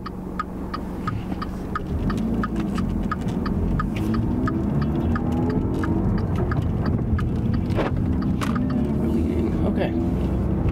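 A worn rear wheel bearing on a Dodge Dart makes a steady low drone with a faint throbbing inside the moving car, heard continuously over road rumble.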